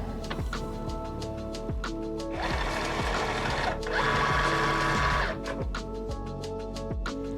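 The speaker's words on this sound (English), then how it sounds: "I'm going to push it up against the pinch wheel and hit the load mat button." A SINGER momento cutting machine pulls a cutting mat in past its pinch wheel, giving a close mechanical motor whir and hum that swells for a few seconds over a steady background, with no one speaking.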